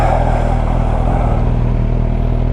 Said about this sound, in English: Just had to go down like loads of gears.